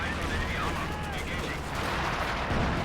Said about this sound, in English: There's the sniper. Again, opening up, claiming his 40th kill.